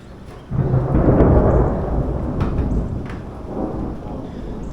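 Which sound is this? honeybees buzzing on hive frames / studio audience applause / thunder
thunder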